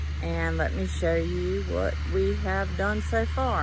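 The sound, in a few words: tractor engine running while tilling weeds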